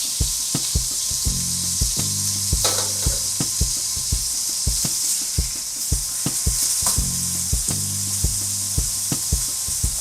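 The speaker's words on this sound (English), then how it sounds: "Throw them back on the grill and melt the cheese." White Castle slider burgers sizzle on a grill, a steady bright hiss broken by repeated clicking taps and scraping of utensils at an uneven rhythm, close by with no talking.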